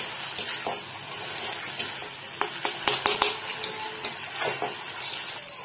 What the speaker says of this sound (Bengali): চাল আর ডালটা দিয়ে আমি মশলাটার সাথে ভালো করে মিক্স করব।